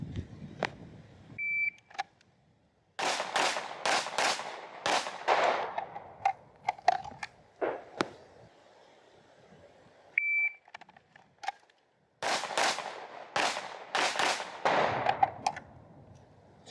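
Pistol gunshots ring out at shooting-range targets in sharp, loud bursts, a few quick strings of cracks separated by pauses, with faint beeps of a shot timer between the volleys.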